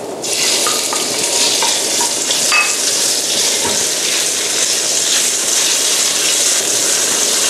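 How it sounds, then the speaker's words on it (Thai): Pork hits hot oil with fragrant garlic in a pan, producing a loud, dense, continuous sizzle that bursts in at the start, with a few light utensil clinks early on and no speech. "พอกระเทียมหอมได้ที่นะคะ เราก็จะใส่ หมูลงไปนะคะ"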